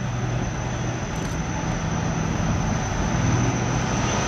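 An SBB Cargo Am 843 diesel locomotive works hard on a line in the Alpine region, giving a steady, loud engine drone with a low throb. It is close by and continuous, with no voices.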